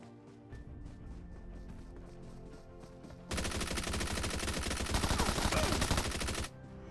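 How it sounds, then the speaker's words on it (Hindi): Hip-fire gunshots in a PUBG-style battle royale video game: a dense, loud burst of rapid automatic fire lasting a few seconds, following quieter game ambience with faint tones. "मैक्स भैया को यहाँ पे हिप फायर में ही पकड़ के अपन इनको चाप देते हैं"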